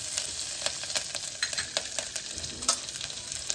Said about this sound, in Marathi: मला ती तडतडलेली फोडणी फार आवडते